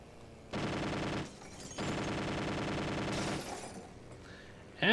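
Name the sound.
machine gun fire in Airfix Dogfighter video game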